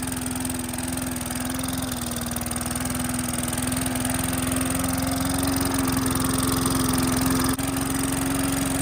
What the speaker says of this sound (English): I'm literally mowing my yard with biogas.